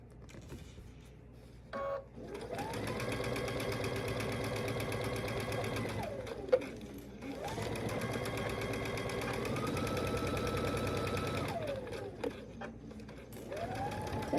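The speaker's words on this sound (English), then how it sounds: "Then I'm going to sew this long seam down here at a 1/4 inch again." A sewing machine runs a long quarter-inch quilt seam in two extended steady whirring runs, close and clear, with short pauses for pin removal and no talking.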